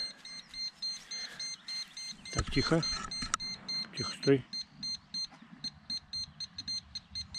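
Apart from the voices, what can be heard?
metal detector beeping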